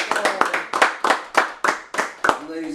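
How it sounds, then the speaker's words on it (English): An audience claps in a live talk show finale, a quick burst of about eight loud, close hand claps in a steady rhythm, with a voice speaking as it ends. "let's clap it up for Nadia one more time"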